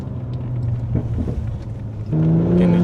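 Stage 2 Mercedes C43 AMG W205 with a sport intake, its engine droning steadily inside the cabin during a drive, then stepping up to a louder, higher pitched tone as the revs rise near the end.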